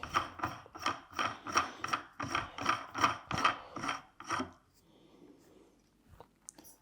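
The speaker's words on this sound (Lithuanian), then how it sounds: "jokių įrankių nenaudojame ir užmontuojame patį garso slopintuvą" A Hausken rifle sound suppressor is threaded onto its adapter by hand, giving a steady series of about a dozen rhythmic rasping, ratcheting turns, close and fairly quiet, then stopping into near silence with a faint click.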